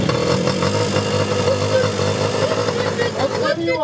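A mini bike engine with a flooding carburetor, left sitting unused for four years, runs steadily and close by with an uneven, rough tone, while people talk over it.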